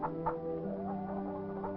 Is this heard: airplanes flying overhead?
no